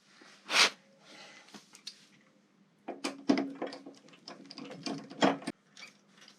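A ratchet clicks in short uneven bursts while loosening tight bolts on a Harley-Davidson rear brake caliper, close up and fairly quiet, with pauses between strokes.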